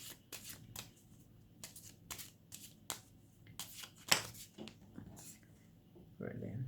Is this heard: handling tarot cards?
yes